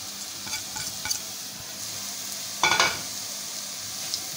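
Steady sizzling of spices frying in a pan for a mixed vegetable and fenugreek dish, with a few scraping stirs, a louder clatter of the spoon near the middle; no voices.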